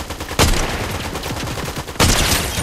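Rapid gunfire in a shooter video game, loud and close, with two sharp bursts opening dense strings of shots that crackle on without a break.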